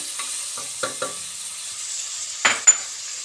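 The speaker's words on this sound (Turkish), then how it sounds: "bunlar sotelenene kadar şöyle kuşbaşılarımı ilave ediyorum" Diced meat pieces sautéing in a pan while being stirred, a faint steady sizzle with a few soft scrapes and clinks from the utensil, close and quiet.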